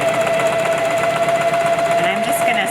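A sewing machine stitches a shirred sundress seam in a steady, continuous loud whir close by, with a constant hum and no breaks, running alone.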